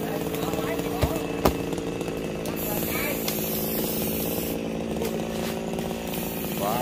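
A chainsaw cuts into a lồng mức tree trunk in a tight space, its engine buzzing steadily and loudly up close with a few sharp knocks and thuds from the wood; a person talks over the saw.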